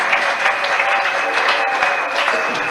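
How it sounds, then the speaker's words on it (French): Congregation at an evening church gathering applauds and cheers in a steady, loud, continuous wash of clapping with crowd voices mixed in, filling the whole short stretch. "Donne-moi les offrandes des acclamations."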